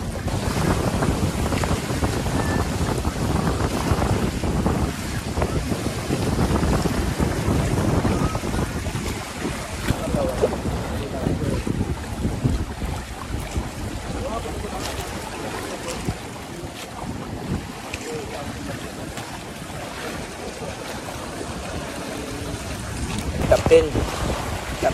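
A paraw sailboat sails on the sea off Boracay in the morning, with strong, continuous wind buffeting the microphone over the rushing wash of water and waves along the hull.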